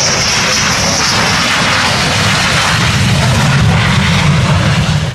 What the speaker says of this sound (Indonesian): lihat teman-teman, di sini ada pesawat jet